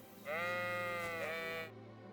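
A sheep in the video game Kingdom Come Deliverance II gives one long, loud, wavering bleat that lasts over a second, close by with no talk around it.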